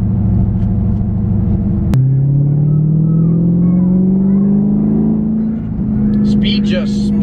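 A Dodge Charger Scat Pack accelerates hard from inside the cabin, engine rumbling loud with a gear change early on, then pitch climbing steadily as speed builds, with a voice talking over it.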